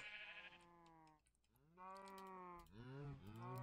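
Minecraft cows on a farm lowing in long, drawn-out moos, three or four calls in a row, fairly close and clear with no talking.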